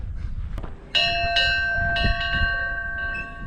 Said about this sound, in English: Did you ring its bell? Try the bell out, Bird.